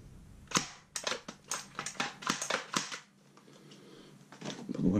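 A GHK G5 airsoft rifle fires a quick string of sharp, close cracks in an uneven rhythm of about a dozen shots, followed by quieter mechanical clicks and handling noise as the weapon is cleared.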